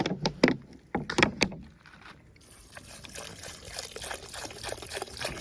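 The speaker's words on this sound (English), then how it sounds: "so like how I throw in the milk" Coconut milk poured into a cooking pot for Jamaican rice and peas, beginning with a few knocks and splashes and then settling into a continuous close liquid pouring and trickling sound.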